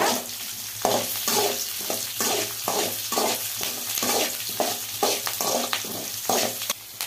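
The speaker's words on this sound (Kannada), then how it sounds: "ಬೆಳ್ಳುಳ್ಳಿ ಸೇರಿಸ್ಕೊಳ್ಳೋಣ. ಫ್ರೆಂಡ್ಸ್, ಫ್ರೈ ಮಾಡೋಣ." Garlic and curry leaves sizzle in a hot pan for homemade fried rice, with a steady crackling fry broken by regular scraping strokes of a spoon stirring about once a second, close and fairly loud, no talking.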